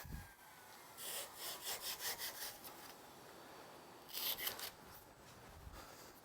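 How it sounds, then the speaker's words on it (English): A small, sharp hand saw makes a quick run of rhythmic rasping strokes cutting a piece in half, then a second shorter burst of strokes, close and fairly quiet. "Sharp little saws, those,"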